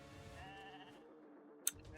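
A sheep bleats in a Raid: Shadow Legends live arena battle, a wavering cry over tonal game sounds, followed by a single sharp click near the end.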